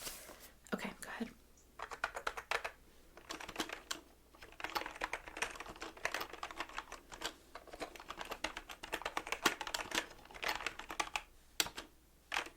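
Close-up typing on a computer keyboard at a mortgage office reception desk comes in irregular bursts of crisp key clicks with brief pauses, quiet and intimate, with soft speech now and then.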